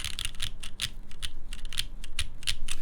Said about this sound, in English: It sounds like pretty typical top mount with lightly lubed MX Blacks.